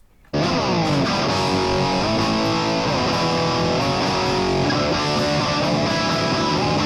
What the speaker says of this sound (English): This has gone into the heavy distortion section, so we're going to listen to it.